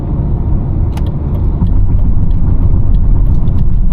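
A BMW E39 523i sedan cruises along a road, a loud, steady engine and tyre rumble from inside the cabin that swells slightly partway through, with faint ticks and rattles over it.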